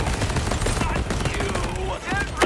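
Video game gunfire from Borderlands 4 crackles in rapid, dense bursts throughout, mixed with busy game effects and a rising whoosh near the end, with no clear talk.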